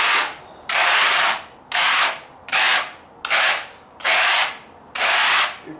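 Scraping sand off deck pavers with a hand tool, in repeated broad rasping strokes: six strong, evenly spaced scrapes of about half a second each, loud and close, with no voices.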